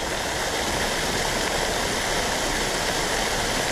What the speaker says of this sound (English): Waterfall in the back.